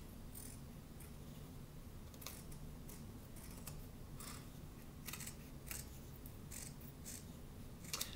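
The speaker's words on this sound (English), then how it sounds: "So once that first layer is dry, we're going to cut all this extra fabric off." Scissors snip repeatedly through excess fabric around a decoupaged wood slice, a series of short, faint cuts spaced irregularly over a low steady room hum.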